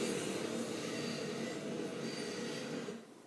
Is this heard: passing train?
yes